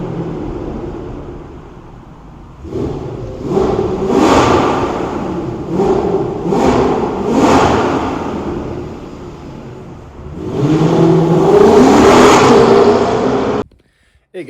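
A 500 HP Mercedes-AMG engine revs and accelerates through paddle-shifted gears, rising and falling in repeated pulls with brief dips between shifts, then a strong final surge before cutting off abruptly.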